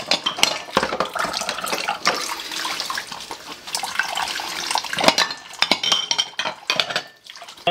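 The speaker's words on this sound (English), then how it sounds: "whenever I change dishes, all the water falls on the bottom" Dishes being washed by the pyramid method under a running faucet, with steady streaming water, frequent clinks of plates and cutlery, and splashes into a sink basin, close and continuous.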